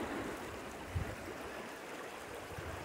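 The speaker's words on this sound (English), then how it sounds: "Water's flowing nice." Creek water flows steadily through a stream improvement site with logs and small elevation drops, a constant close broadband wash with a brief soft knock near the one-second mark.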